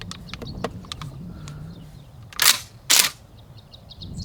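A Benelli M3 dual-mode shotgun has its bolt closed to chamber a shell: a few light mechanical clicks, then two loud, sharp metallic clacks close together, close by, with no speech.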